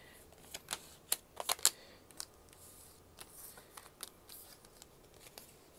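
Tarot cards shuffled by hand during a reading, a series of short, crisp flicking snaps and riffles in quick irregular bursts, close and fairly quiet, with no talking.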